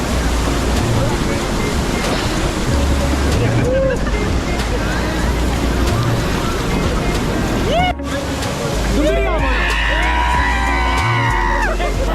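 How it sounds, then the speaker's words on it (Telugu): A waterfall in Wayanad, Kerala roars steadily with a dense, close wash of rushing water, while people shout and whoop excitedly over it and voices talk. "మీరు చూస్తున్నారు కదా పైనుంచి వాటర్ అయితే ఎట్లా పడుతున్నాయో"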